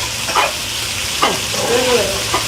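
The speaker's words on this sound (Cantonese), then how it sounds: "我哋將啲蒜啊、葱啊爆香佢先，就擺啲鯪魚粒。" Garlic, scallion and diced dace fish sizzle in a hot wok, stirred with a few sharp scraping strokes over a steady close frying hiss, no one speaking.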